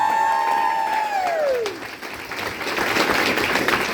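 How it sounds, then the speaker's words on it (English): Audience applause and cheering for comedian Ryan Dalton at an American Legion comedy show, a dense crowd roar with clapping that swells again after a brief dip, while a whistle-like tone glides downward near the start. "Everyone give a round of applause for Ryan Dalton."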